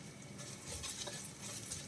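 Asafoetida, turmeric and spices sautéing in hot oil for a vendakka karakuzhambu, a soft steady sizzle with faint spoon scraping in the pan, low and close, no voices.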